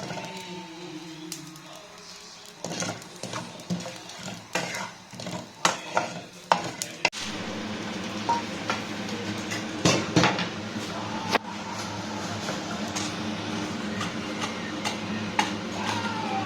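Dry roasting of whole black pepper and shah jeera in a pan for Kolkata-style mutton biryani: repeated scraping, rattling stirs and light pan clatter over a steady faint hiss, close up.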